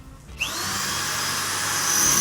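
Power drill boring rivet holes through a school bus's sheet-metal roof, a steady high whine that starts sharply after a short pause and holds loud and close to the end.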